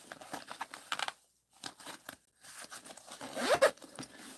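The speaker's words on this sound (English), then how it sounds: "we have a hidden zipper pocket" A zipper on a hidden pocket of a sling bag is pulled in several quick, close, soft zips separated by brief pauses, with faint rustling of the fabric.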